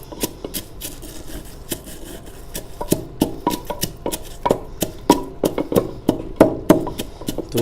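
Eggshells are crushed and ground by hand in a manual grinder, a rapid series of sharp crunchy cracks and scrapes growing denser and louder as the grinding goes on.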